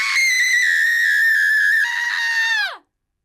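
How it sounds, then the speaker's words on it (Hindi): A woman's long, piercing scream as a horror story sound effect, loud and close, holding a high pitch for nearly three seconds before sliding down and cutting off into silence. "निशा चिल्लाई"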